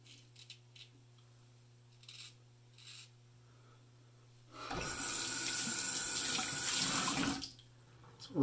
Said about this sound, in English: Rinsing away very well off the blade too